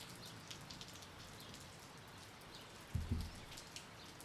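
Rain falls steadily outdoors as a faint, even hiss with scattered drops, one closer low thump partway through, and no talking.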